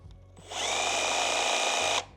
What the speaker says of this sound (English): that's still a lot quieter than my plug-in one. And jigsaws are pretty quiet.